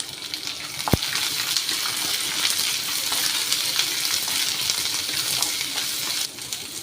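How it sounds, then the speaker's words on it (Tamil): Garlic and small onions frying in hot oil for a spicy garlic chutney, a steady close sizzle with stir scrapes throughout and a single sharp clink near the start; no talking. "பூண்டு நல்லா ஃப்ரை ஆகிட்டு வரும்போது நமக்கு நல்ல மனம் வரும் அது வரைக்கும் நல்லா வதக்கி விட்டுக்கோங்க"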